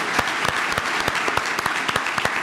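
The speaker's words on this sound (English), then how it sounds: "Give them a round of applause." A conference audience applauds a panel, a loud, steady wash of clapping with sharp individual claps standing out throughout, no voices over it.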